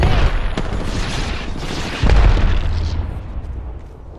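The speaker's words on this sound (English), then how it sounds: "Grenade." A grenade goes off in the Apex Legends battle royale game, with a sharp booming burst at about two seconds following earlier pops and gunfire, set within a dense, continuous wash of game noise.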